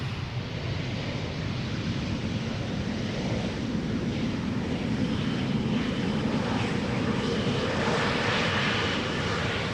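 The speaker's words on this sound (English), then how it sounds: "Flying parallel to it is also an Embraer 190." An Embraer 190 airliner arrives at Amsterdam Schiphol Airport, its jet engines a constant broad roar with wind-like rumble, loud and steady throughout with no talking.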